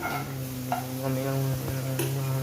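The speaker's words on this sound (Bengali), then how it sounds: "এবার এটাকে আমি একটু নেড়ে নিয়ে" Food being stirred in hot oil in a cooking pan for masala oats, with soft scraping strokes and gentle sizzle under a steady low background hum.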